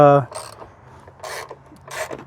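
A T50 Torx socket works a third-row seat bolt on a 2019 Ford Flex SEL, giving three short bursts of close mechanical ratcheting and rasping separated by brief quiet gaps.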